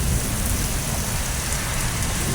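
A loud, steady downpour of heavy rain hisses and roars without pause, close and full, in Turkey.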